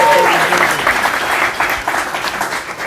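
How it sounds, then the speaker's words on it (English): A crowd gives loud applause at a live running-event livestream, a thick sustained clapping close and strong, with a voice briefly heard through it. "give him an extra loud round of applause"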